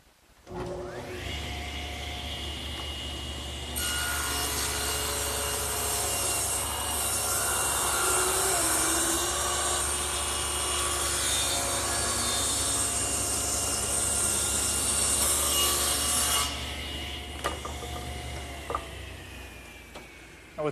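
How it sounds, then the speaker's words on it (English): A power saw squares up a glued wooden blank, its motor droning steadily with a louder, hissing cut through the wood in the middle stretch before easing back to a running hum, without talking. "So I'm going to start squaring it up by running one side through the saw."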